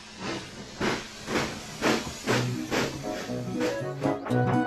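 A cartoon steam tank engine puffs in a steady rhythm of about eight loud, evenly spaced chuffs of hissing steam, close and alone.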